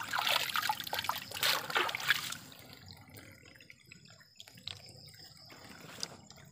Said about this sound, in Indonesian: Ini aliran airnya tuh dari gunung tuh